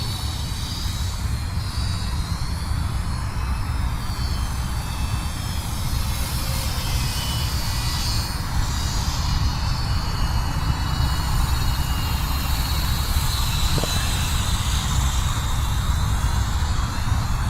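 A Flyzone Fokker Dr1 RC model airplane flying at about 30% throttle gives a steady, continuous electric motor drone with a faint whine, holding level throughout with no voices.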